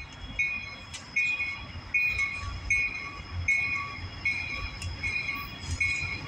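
A southbound CSX mixed freight train rolls past with a steady rumble and a regular clatter of wheels over rail joints, plus a thin metallic ring throughout.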